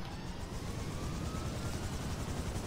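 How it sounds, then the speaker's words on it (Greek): Helicopter in a video game, a steady broadband rotor and engine drone holding at an even level throughout, with no voices. "Πάμε να πάρουμε αυτό, το ελικόπτερο."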